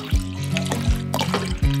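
Water and evaporated milk poured from a tin into a cooking pot for a tutti frutti pudding, heard as a close, continuous splashing trickle with a few gurgling bursts.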